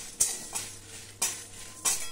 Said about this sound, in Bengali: এবার শুকনো খোলায় ভালো করে নাড়াচাড়া করে একটু ভেজে নিতে হবে।